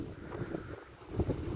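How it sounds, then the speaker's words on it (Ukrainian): Gusty wind buffets the microphone in low, uneven rumbles while fishing in Finland, swelling and easing over a couple of seconds, with no voices. "Вітер, звісно."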